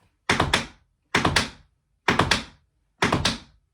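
Four crisp tap steps, each a quick cluster of two or three sharp clicks, evenly spaced about a second apart on a quiet floor.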